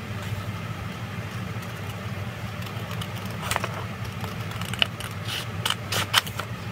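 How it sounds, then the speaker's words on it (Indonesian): Paper-pattern cutting with scissors along the back piece of a basic bodice block, slow intermittent snips growing busier toward the end, close and fairly quiet over a constant low background hum. "Pelan-pelan kita gunting yang bagian belakang dulu."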